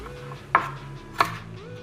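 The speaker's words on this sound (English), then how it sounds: "just try to get that membrane off, and then just rough chop" A knife rough chopping steak on a cutting board, two distinct solid chops about half a second apart, close and clear over a low steady kitchen hum.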